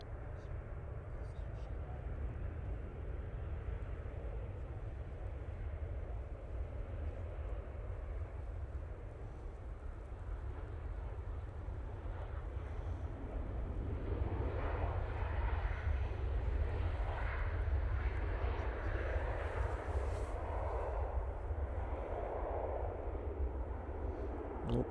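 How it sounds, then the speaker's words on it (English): A Ryanair Boeing 737 arriving at Manchester Airport after a short flight from Dublin produces a low, steady engine rumble. It grows stronger and nearer in the second half, with a broad roar, and quiet voices are heard underneath. "we will throw it on to this Ryanair 737. It's coming in from Dublin."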